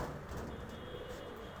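Pigeons kept by a flyer for high flying coo softly in the background, low murmuring calls faint and close, with a hum of ambient noise around them.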